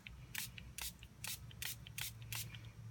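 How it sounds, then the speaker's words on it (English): Shimmery iridescent mist sprayed onto a paper card, heard as six short, crisp spray bursts in an even rhythm, close and fairly quiet, with no talking. "I'm going to spray this onto my card"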